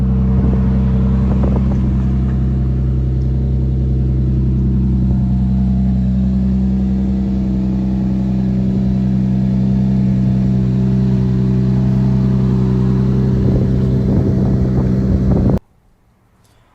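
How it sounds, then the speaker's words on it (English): A Lexus GS engine idles loud and close after a cold start, a steady low rumble with a constant hum that holds for about fifteen seconds before cutting off abruptly. "Might as well cold start the GS too for y'all."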